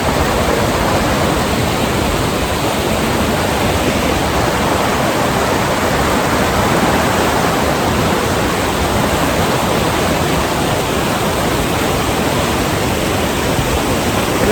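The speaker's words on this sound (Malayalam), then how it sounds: "ആ കോപ്പിൽ നിന്ന് ഐസ് മെൽറ്റായിട്ട് വരുന്ന വെള്ളം കേട്ടോ" Glacier ice meltwater rushing as a stream on the Hampta Pass mountain trek, a loud, steady, broadband roar of flowing water heard close and unbroken, with no voices.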